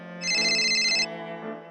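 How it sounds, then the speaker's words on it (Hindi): Mobile phone ringtone for an incoming call, a bright repeating electronic melody sounding loud and close for about a second, then fading into a lower lingering tone. "ये किसका फोन आ रहा है?"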